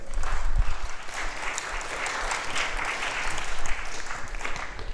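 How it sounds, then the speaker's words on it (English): Sustained applause from a crowd, a steady wash of clapping that carries on for several seconds without pause. "Let's hear it for Roberta and Ida."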